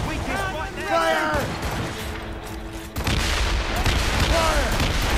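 Ship cannons firing in a pirate video game, several booming shots in quick succession amid battle noise, with voices shouting over the action.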